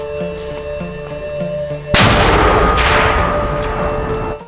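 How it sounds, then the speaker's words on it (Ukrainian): A single sharp, loud mortar shot cuts through a steady mechanical hum, followed by a long rumbling decay that fades over the next couple of seconds. "Постріл!"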